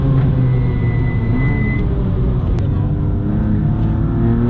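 A loud BMW M2 on a race track gives a heavy, steady low engine drone heard from inside the car, with a brief spoken word from an occupant over it.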